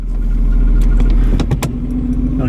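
A 1975 Ford Granada GL fitted with a five-speed gearbox pulls away with a close, steady engine drone and a faint light rattle, and no voices.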